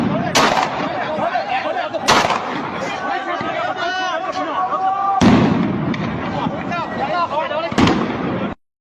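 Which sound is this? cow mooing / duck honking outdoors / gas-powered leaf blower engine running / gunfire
gunfire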